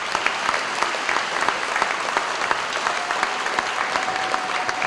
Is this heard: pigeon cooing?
no